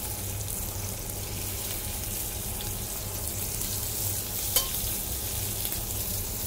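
Scallops searing fast in a hot pan in a restaurant kitchen, giving a steady, even sizzle throughout with a low hum beneath and one brief clink near the end.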